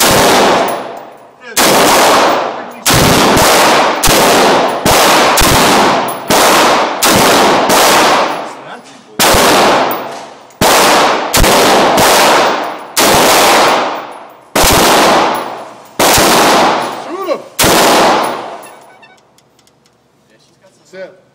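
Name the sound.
AR-15 rifle gunfire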